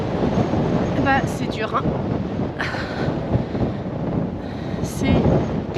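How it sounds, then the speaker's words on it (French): Strong wind buffets the microphone in a steady roar while a cyclist speaks briefly over it. "Vous devez entendre à quel point il y a du vent."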